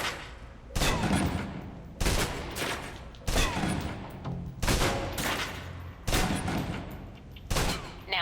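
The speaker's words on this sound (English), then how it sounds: "let's move on to the submachine gun. Now let's empty the clip." A submachine gun in the Alpha Protocol video game empties its magazine in a series of loud, rapid automatic bursts, about six clustered volleys separated by short pauses, with no talking.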